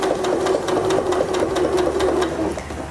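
A Janome Skyline S5 sewing machine stitches with a double needle in a close, rapid and even mechanical chatter that runs steadily and slows at the very end, with no one speaking.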